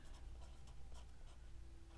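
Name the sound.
pen writing words on paper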